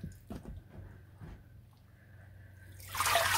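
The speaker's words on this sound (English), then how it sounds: "We're going to start rinsing our fleece." Wool fleece locks being rinsed in a basket of water, with soft dripping and sloshing near the start, then a louder burst of splashing water toward the end.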